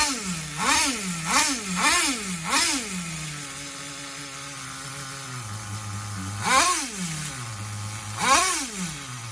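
An HPI RS4 nitro RC car engine with a slightly sticking carburetor idles with a buzzy, high-pitched drone, broken by several quick revving blips close by, then settles back to a steady idle.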